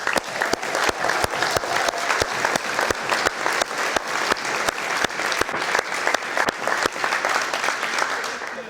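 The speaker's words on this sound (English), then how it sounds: "Let's give them another round of applause." Audience at a gala celebrating twenty years of a charity applauding steadily, dense sustained clapping from many hands filling the room without a break.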